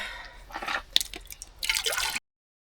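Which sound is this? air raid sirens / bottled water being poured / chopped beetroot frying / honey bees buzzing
bottled water being poured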